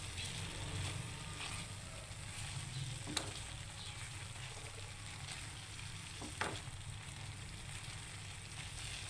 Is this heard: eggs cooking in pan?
yes